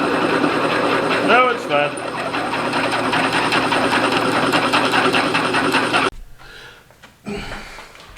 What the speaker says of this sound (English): before I drill the 1/2 inch hole